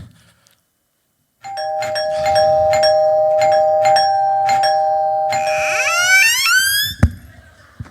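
A doorbell rings loud and close with a long sustained electronic tone and repeated chiming strikes, then a rising warble of tones before it cuts off abruptly.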